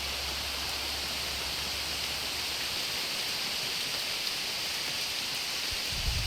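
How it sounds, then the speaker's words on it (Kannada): Morning rain falls steadily in a village, a soft, even hiss with no voices. "ನಮ್ಮೂರಲ್ಲಿ ಮಳೆ ಬರ್ತಾ ಇದೆ ನೋಡ್ರಿ, ಹೆಂಗೆ ಬರ್ತಾ ಇದೆ ಅಂತ."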